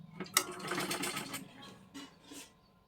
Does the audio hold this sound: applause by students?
no